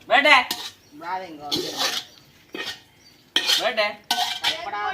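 A ladle scrapes and clinks against a pot as carrots are sautéed, with metallic stirring strokes coming in bursts under conversation in a home kitchen.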